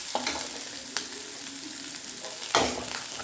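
Onions with green and dried red chilies sauté in a pan under a soft, continuous sizzle, with a few sharper stirring scrapes at the start and one louder stir near the end; no speech.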